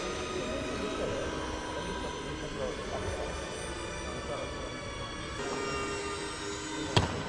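A small RC plane modeled on the Canberra bomber, its electric motor whining at about three-quarter throttle during an indoor takeoff, a steady droning hum that shifts slightly in pitch, ending with a brief sharp knock; a voice talks over it.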